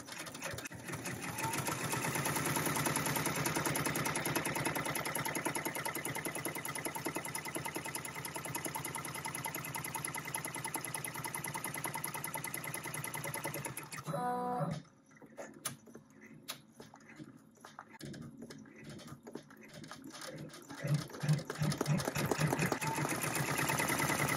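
An embroidery machine stitches an in-the-hoop gel holder with a lined tab, a steady loud mechanical whirring chatter that stops for a moment, then resumes in uneven bursts with clicks and rattles.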